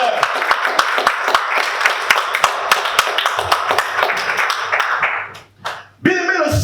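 Congregation clapping during a church service, loud rhythmic hand claps in a steady beat over voices, fading briefly near the end before a voice returns.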